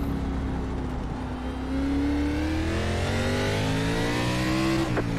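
A NASCAR race car laps the Los Angeles Memorial Coliseum raceway at night. Its loud engine note climbs steadily, then drops off sharply near the end as the car brakes.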